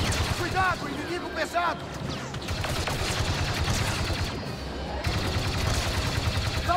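Blaster gunfire from a Star Wars Battlefront II battle, a dense, continuous rattle of shots and blasts running throughout, with someone shouting over the combat.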